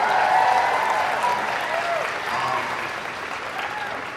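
A large audience at a Comic-Con panel for Doctor Who breaks into sustained, fairly loud applause that holds steady for the whole stretch, with voices faintly mixed in.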